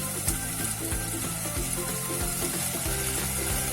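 Sliced onions frying in hot coconut oil give a loud, continuous crackling sizzle close up, steady throughout with no pauses and no voices.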